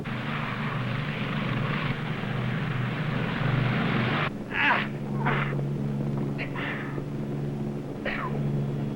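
Steady piston engine drone of a P2V Neptune patrol aircraft running throughout, with a low continuous rumble and harmonic hum, plus a few brief higher bursts layered over it.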